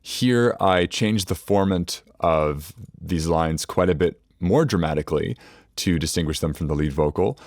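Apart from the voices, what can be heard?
No everyday noises stand out.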